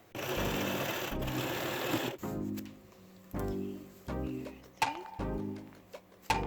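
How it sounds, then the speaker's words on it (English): Sewing machine stitching the tiers of a long gathered skirt, running in several short bursts of rapid whirring separated by brief pauses and small clicks, fairly close. "Time to sew."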